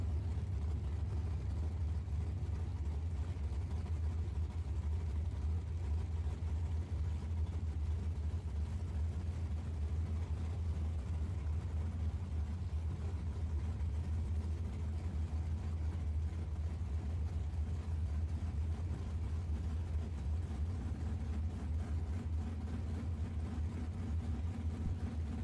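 Drag racing cars, including a Chevrolet Camaro, launch at a strip, heard as a steady, distant low engine roar that holds throughout with a slight rise in pitch near the end.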